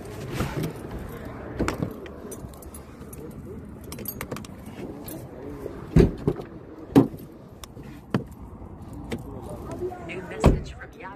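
Car keys jangle in several sharp metallic bursts, loud and close, spaced irregularly over a quiet stretch beside a car, with occasional low thumps and voices talking in between.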